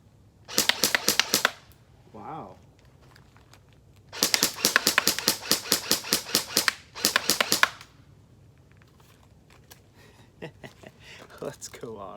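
An airsoft SCAR rifle fires on semi-automatic in rapid strings of sharp snapping shots, three bursts of a dozen or so close cracks each, separated by pauses with a brief mechanical whir and scattered clicks.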